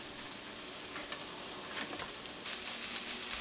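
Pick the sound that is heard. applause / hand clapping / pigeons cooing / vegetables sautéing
vegetables sautéing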